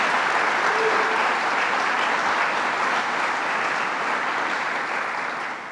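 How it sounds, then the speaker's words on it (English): Audience applause for Bob Duffy, a former lieutenant governor, at the grand opening of the Finger Lakes Welcome Center in Geneva; a dense, steady round of clapping from a crowd that carries on without a break and eases slightly toward the end. "Let's give him a round of applause and thank him for what he does."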